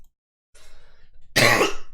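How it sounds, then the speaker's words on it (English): A single harsh cough bursts out loudly and close after a faint breathy throat sound, then trails off. "Oh god, that cough."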